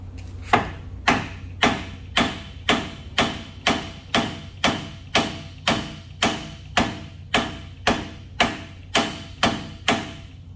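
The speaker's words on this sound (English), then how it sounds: "I'll probably have to take a hammer and knock that loose." Hammer knocking loose a transmission part on a 1979 Cadillac Coupe DeVille: evenly spaced, sharp metallic blows, about sixteen in a steady rhythm, each with a short ringing decay, close and fairly loud.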